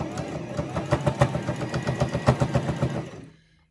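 A sewing machine stitches in a fast, regular mechanical rhythm for a few seconds, then stops.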